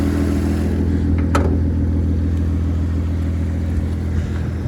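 A facelift GPX Mitsubishi FTO's MIVEC V6, dual overhead cam with 24 valves and a cone intake, idles with a steady low rumble close by, with one brief sharp click partway through.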